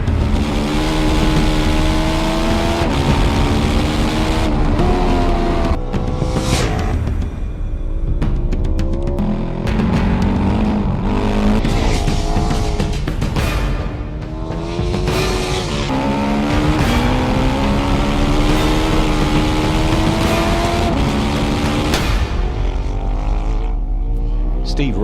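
A Ducati 1198S superbike laps a race track, its engine screaming loud and close as it climbs through gears, with repeated rising and falling sweeps as it brakes and accelerates through corners.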